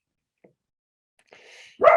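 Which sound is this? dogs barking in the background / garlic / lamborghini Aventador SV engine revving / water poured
dogs barking in the background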